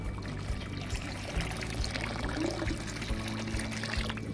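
Tetra fish poured into an aquarium make a faint, continuous trickle of water at close range, with no talk over it.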